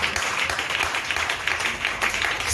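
A church congregation applauds and acclaims the Lord, a dense, continuous wash of many hands clapping close by, loud and steady with no break.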